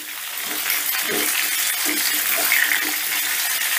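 Pumpkin pieces frying and being stirred in a pan, a continuous hissing sizzle with soft intermittent scrapes and stirring knocks, fairly close, with no talking.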